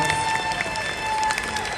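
Guests applaud the groom at a wedding. The clapping is a loose wash of crowd noise under steady background music, without clear speech.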